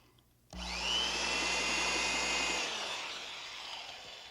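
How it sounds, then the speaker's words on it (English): An electric drill bores into wood, starting abruptly with a loud, steady high whine for about two seconds, then winding down as it spins to a stop. "An electric drill."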